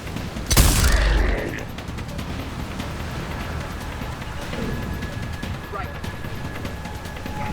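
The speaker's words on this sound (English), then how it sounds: "Commander, I've got enemy contact. Under fire." Video game combat with enemy gunfire: a loud burst of shots and a blast near the start, then a steady low rumble of distant firing and ambient battle noise.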